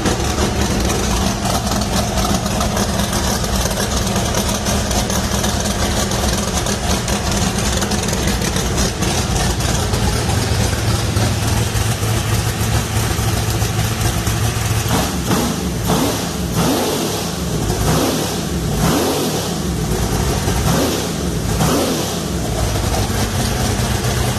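An engine fitted with Tornado fuel injection and running on alcohol fires up and revs, a loud, close, continuous roar that later breaks into repeated sharp throttle blips.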